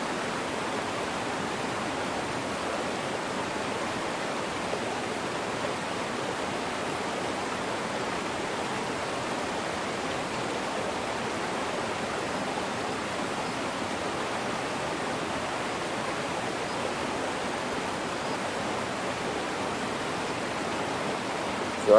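Waterfall in the fishing game Fishing Planet, a steady, even broadband rushing roar that stays constant throughout, with no talking.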